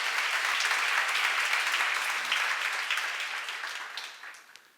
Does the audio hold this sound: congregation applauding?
yes